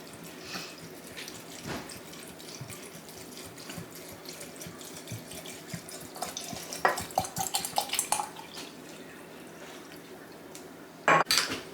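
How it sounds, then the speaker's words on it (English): Homemade apple scrap vinegar poured over goldenrod leaves and flowers in a jar, a soft steady liquid trickle with light clinks of glass and utensils, louder splashes near the end. "I'm just going to pour this directly over the leaves and the flowers"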